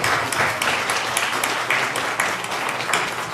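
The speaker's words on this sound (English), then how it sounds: "a round of applause for the organizers and everyone who put this together" At a mayoral candidate forum, an indoor audience claps for the candidates and organizers in a dense, steady patter of many hands, moderately loud throughout with no single voice standing out.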